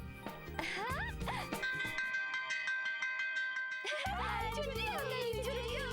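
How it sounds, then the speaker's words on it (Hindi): A bright electronic chime rings out in a repeating melodic pattern, with musical tones and a tinkling jingle running under it. "घंटी की आवाज जोर से आई"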